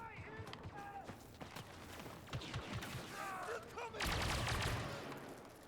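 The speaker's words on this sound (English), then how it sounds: "You can always hear when your bullets hit the wall" Blaster fire in Star Wars Battlefront 2, with scattered shots and sharp bullet impacts against a wall, followed by a louder dense burst near the end, mixed with mechanical clatter and game sounds.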